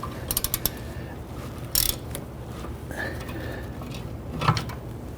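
Ratchet wrench loosening rear upper control arm bolts on a 1999-2004 Jeep Grand Cherokee, quick clicking strokes early then scattered metallic clicks and clanks over a steady background hiss, close up.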